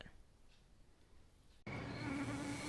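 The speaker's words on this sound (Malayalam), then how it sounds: "ഈ രാക്ഷസ കൊതുകുകൾ ഇത് എപ്പോൾ എത്ര വരുമെന്ന് ആർക്കറിയാം" In a mosquito repellent advertisement, a loud, close insect buzz of mosquitoes starts abruptly after a quiet stretch and drones on steadily with a whining tone.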